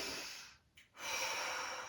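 During a beginner yoga session, one deep breath is drawn in and then audibly released, heard close and alone against a faint background hiss.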